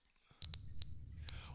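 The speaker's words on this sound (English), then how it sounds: "Oh, the fucking fire alarm!" Fire alarm in The Stanley Parable, a loud, shrill electronic beep sounding in three or four sharp bursts, with a steady tone between the first pulses and a low rumble underneath.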